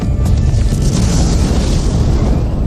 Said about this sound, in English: A nuclear explosion.